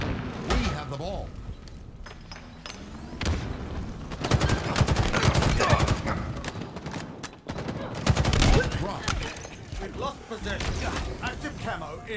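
Rapid video game gunfire from a Halo Fiesta match crackles in dense bursts and volleys, loud and continuous, with a game announcer voice and player speech mixed over it.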